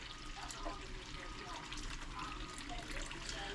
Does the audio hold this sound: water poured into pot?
yes